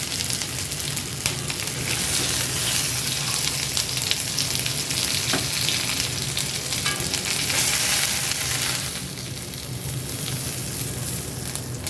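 Onions cook in oil in a pan with a dense, loud, continuous sizzle and crackle, much like steady rain, which eases slightly toward the end; no one talks.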